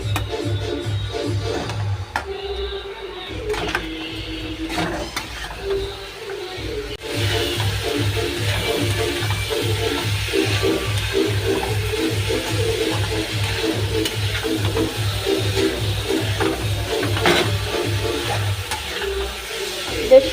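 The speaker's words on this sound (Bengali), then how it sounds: "এবার আমি ছোলাগুলো দিয়ে দেব, দিয়ে ভালো করে কষে নেব।" Chickpeas stir-fried in a yogurt masala for butter masala chana, a continuous loud sizzle with rapid, rhythmic spatula scraping against the pan that runs nearly the whole time, briefly pausing early on.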